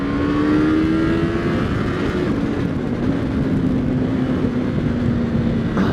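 A 2015/16 Yamaha YZF-R3 motorcycle accelerates in third gear, its engine a loud, steady droning whine heard up close from the rider's position, with wind noise and no talk.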